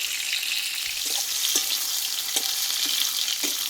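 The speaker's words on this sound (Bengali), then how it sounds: "এখানে একটু পটলটা সুন্দরভাবে লাল লাল করে একটু কষিয়ে নিয়েছি" Pointed gourd pieces fry in a pan with a steady, close sizzle, with occasional soft stirring scrapes and clicks running throughout.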